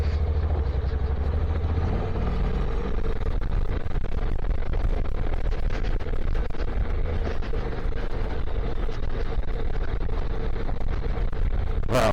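A Honda NC700 motorcycle rides on a gravel road, its engine rumble a steady low drone mixed with heavy wind buffeting and crunching road noise, continuous and loud with no talk.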